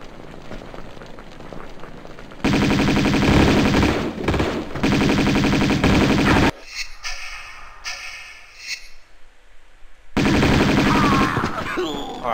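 Bursts of rapid automatic gunfire from a video game firefight, loud and sustained in long volleys with brief gaps between them, with no talking.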